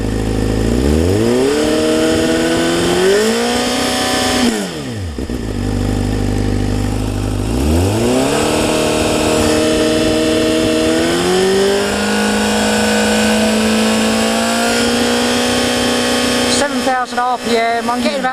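A 2013 Honda CBR600F with a Black Widow exhaust silencer idles and then revs hard several times, pitch climbing and falling in long sweeps, loud and close, measured at arm's length from the exhaust.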